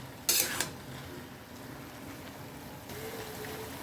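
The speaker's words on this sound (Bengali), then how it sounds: "এবারে আমি এর মধ্যে যে সর্ষে বাটাটা বেটেছিলাম সেটা আমি দিয়ে দেব। দিয়ে ভালোভাবে মিশিয়ে নেব।" Mustard paste being stirred into Malabar spinach cooking in a pot: a sharp clink of utensil on metal at the start, then a soft, steady simmering and scraping bed without speech.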